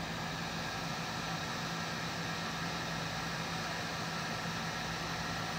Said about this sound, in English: to seal them up, you can use a heat gun